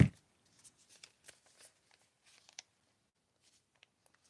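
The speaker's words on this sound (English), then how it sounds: "We'll just cut up this piece of paper here." Scissors cutting up a piece of paper in a quiet room, heard as a series of soft, crisp snips and rustles, close and gentle, spaced irregularly with pauses between.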